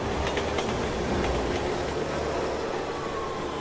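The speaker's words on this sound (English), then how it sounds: "Look out! Train!" Train rushing past in the video game Resident Evil 6, a loud continuous rumbling roar with rattling wheel clatter and a faint metallic squeal, no voices.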